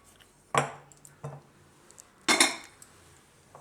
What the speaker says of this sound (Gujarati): એમાં આપણે આ નાખી દઈશું બધું મરચું. આમાં મિક્સ કરી દઈશું.